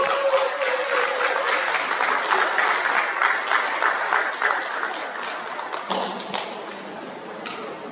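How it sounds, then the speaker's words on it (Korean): An audience claps steadily for the full length to welcome a lecturer at a peace and unification college event, with dense, sustained applause and a few louder taps near the end. "강사님 김지양 선생님을 큰 박수로 모시겠습니다."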